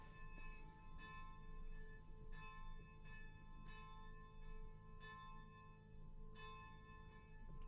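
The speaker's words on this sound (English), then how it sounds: "The bell is ringing now for the community rosary," A church bell rings in slow, regular strokes, each one ringing out and decaying before the next, faint and distant over a low background hum.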